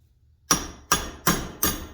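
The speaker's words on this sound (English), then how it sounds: "now we're gonna try to punch this drill bit out" Four sharp metallic hammer strikes, evenly spaced and close, driving a drill bit out of a hole in a metal motorcycle exhaust bracket fitting.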